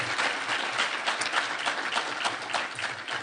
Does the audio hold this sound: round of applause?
yes